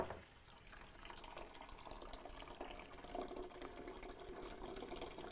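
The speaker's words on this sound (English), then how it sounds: "And then we're just going to fill it with some water." Water filling the reservoir of a Profitec GO espresso machine, a quiet continuous pouring and splashing that grows slightly fuller as it goes.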